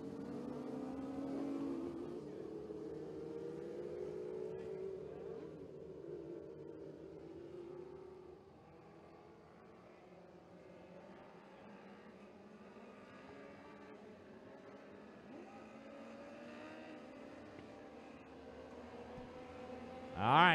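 600 sprint cars race around Gas City I-69 Speedway, their engines a faint, distant roar that rises and fades as the pack circles the dirt oval, ending with a sharp nearby burst.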